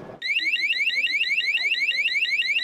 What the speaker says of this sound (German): Die Innensirene geht los